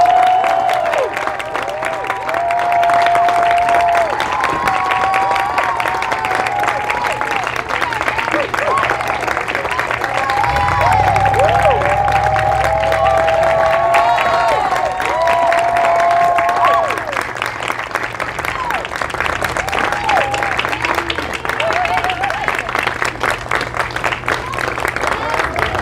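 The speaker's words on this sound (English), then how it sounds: "Keep it going, clap it up until she gets up here and gets settled" A live audience applauds and cheers steadily for a performer walking to the stage at a Seattle event, with a dense, sustained wash of clapping and crowd noise over about 26 seconds and a few raised voices rising above it.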